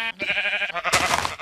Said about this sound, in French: histoire d'avoir des petits sons de chèvres.